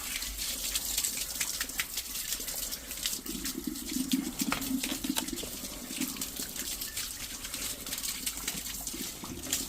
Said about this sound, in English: Nothing like the sound of running water in a drain